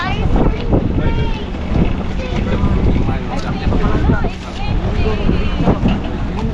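Gusty wind blows outdoors under a graying sky, heavy microphone rumble across the whole stretch while several people talk close by, their voices overlapping the constant buffeting.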